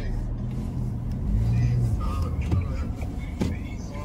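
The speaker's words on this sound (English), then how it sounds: "I'm in the car right now." Steady low road and engine rumble from inside a moving car just leaving a gas station, continuous through the clip with faint voices murmuring underneath.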